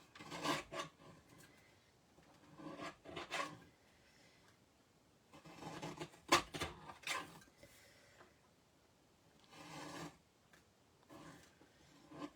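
A paper trimmer slices cardstock in a series of quiet, short rasping strokes, several separate cuts close by with pauses between, and no talking.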